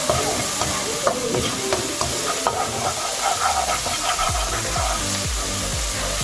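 Marinated chicken sizzles and crackles steadily in a hot pan with ginger and garlic, with occasional stirring and scraping clatter throughout.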